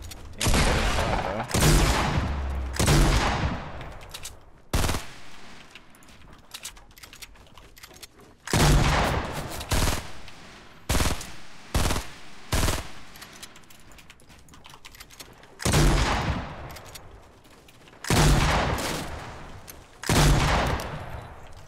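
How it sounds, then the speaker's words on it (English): Gunfire in the video game Fortnite rings out in loud, repeated bursts of shots separated by short pauses, with no talking over it. "Where are those shots from, though?"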